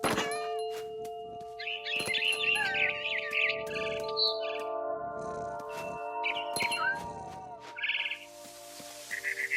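Quick chattering chirps from a frightened barn swallow come in repeated bursts in What Remains of Edith Finch, layered over sustained musical tones and occasional sharp knocks.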